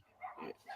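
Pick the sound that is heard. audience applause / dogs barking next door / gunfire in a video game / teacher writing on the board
dogs barking next door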